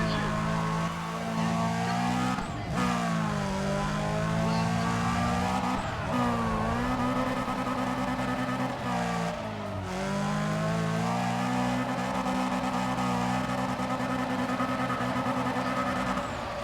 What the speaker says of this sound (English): This guy in a tuned up RX-7 is getting beaten by a barely tuned sleeper AE86.